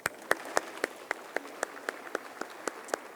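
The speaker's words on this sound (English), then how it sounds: "If you can join me in giving them a round of applause." Sparse, quiet clapping from a small audience at a university kick-off event, a handful of distinct claps spaced in an uneven rhythm, faint and somewhat distant.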